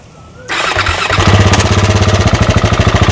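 A Yamaha Exciter motorcycle engine fires up after a brief quiet moment, then settles into a loud, close idle with a fast, even pulsing beat.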